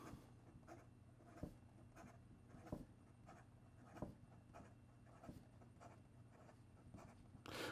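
Woodshed Pen Company Shimmer fountain pen nib scratching quickly across paper, soft close strokes with brief louder scrapes at an irregular pace, faint and alone.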